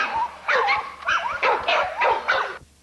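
Kennel dogs at a yard, including pitbull-type breeding stock, bark in quick, close, loud yips and whimpering barks, about six in a row with brief gaps.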